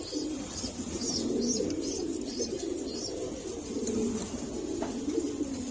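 Male pigeons coo nearby in a continuous, throaty, rolling murmur of overlapping calls, steady and moderately loud, with faint chirps above and no talk.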